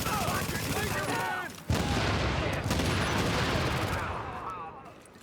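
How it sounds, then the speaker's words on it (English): Turret gunfire in a video game, heard as a dense, loud, continuous roar of rapid shots that fills most of the stretch, with voices talking over it at the start and the end. "Turret!"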